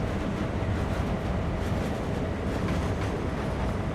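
A train in Train Sim World 3 gets rolling through a switching yard, giving a steady, dense low rumble of wheels and running gear with faint rhythmic clatter and no talk.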